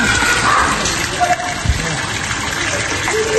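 Water gushes in a steady rush from an elevated rainwater harvesting tank as it is drawn off, loud and close, with voices talking over the flow.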